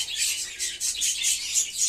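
Pigeons at a breeding loft give a rapid string of high, thin chirping calls, repeated about every quarter second, close and fairly clear against a quiet background.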